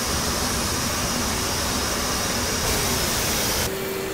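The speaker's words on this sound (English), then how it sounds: "that sound you just heard, that was the APU shutting down" An F/A-18 Hornet's APU in the DCS World flight simulator shuts down, a loud broadband whine and rush of air that drops away abruptly near the end.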